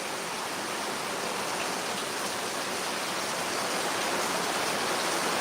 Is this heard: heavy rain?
yes